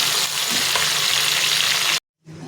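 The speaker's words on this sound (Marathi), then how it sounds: "आता मी थोडे थोडे करून तेलामध्ये टाकून घेते। आपल्याला छान परतून घ्यायचं आहे।" Whole masoor lentils fry in hot oil with a steady, bright sizzle that runs continuously, breaks off into a short silence near the end, and then resumes more softly.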